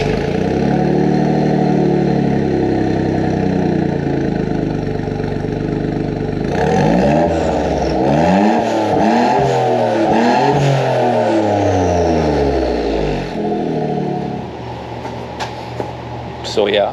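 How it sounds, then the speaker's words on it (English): A 1996 Suzuki Jimny with a loud custom side pipe exhaust idles with a droning rumble, then revs up and down several times in rising and falling sweeps, close and loud, with a voice heard at times. "I will now give you a demonstration"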